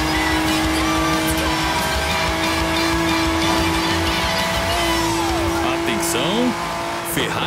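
A car in the racing game Forza Horizon 3 drives a sprint race on closed roads, its engine droning loud and steady with shifting pitch and brief tire chirps, while a voice talks over it.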